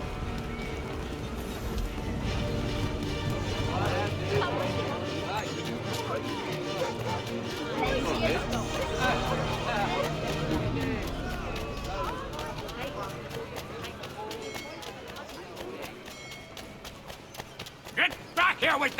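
Horse hooves clopping in Assassin's Creed III, a steady patter of hoofbeats amid town crowd noise and babble, continuing under game music and ambient bustle for most of the span.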